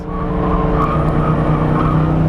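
A Ford Mustang race car slides through a corner on a track, its engine droning loud and steady under a continuous tire squeal, heard from inside the cabin.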